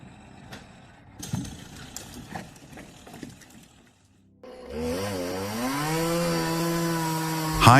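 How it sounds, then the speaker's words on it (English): High in a tree, a worker cuts a large branch: light rustling and knocks come first, then after a short hush a motor roars in close and steady, rising in pitch toward the end. "High in a tree, a worker cuts a large branch while balancing in a dangerous position."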